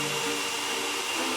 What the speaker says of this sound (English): And dry it with a hairdryer.